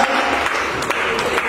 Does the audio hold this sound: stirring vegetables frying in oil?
no